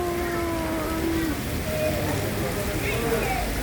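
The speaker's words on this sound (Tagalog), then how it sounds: "Bonggang lakas ng ulan" Heavy rain falls as a dense, steady hiss and patter that never lets up, with faint tonal background sounds running underneath.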